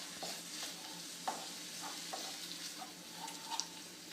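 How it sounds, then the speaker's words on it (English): Indian dal soup being stirred in a pot, with soft scraping strokes and a low bubbling sizzle running continuously at moderate level, no talk. "and just give it another stir"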